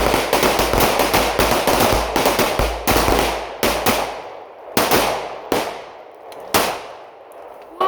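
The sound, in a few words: pistol shots fired in a shooting class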